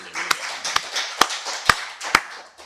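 A church congregation claps in slow, even unison during Sunday worship, five or six distinct loud claps spaced about half a second apart over a murmur.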